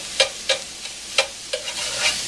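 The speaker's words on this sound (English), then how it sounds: "A whisk. And as it cooks, you just break it up." Ground meat for Bolognese sizzling in a hot pan while a whisk breaks it up, with several short scraping strokes over a steady soft frying hiss.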